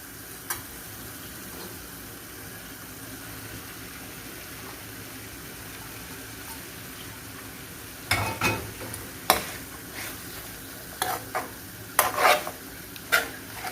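Chicken and onions stir-frying in spices in a pan, a steady low sizzle throughout with louder scraping, clattering stirs of the spoon toward the end.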